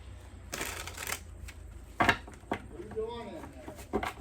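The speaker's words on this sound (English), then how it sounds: "It's me shuffling cards." Cards are shuffled in quick riffling bursts, close by, with a voice speaking in between.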